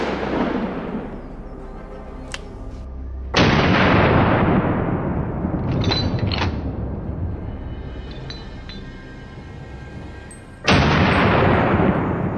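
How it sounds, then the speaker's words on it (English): Rifle gunshots on a wild boar hunt outdoors: several sharp, loud cracks with booming decay, spaced several seconds apart, close by. "The gunshot rang out, the boar was hit and fell."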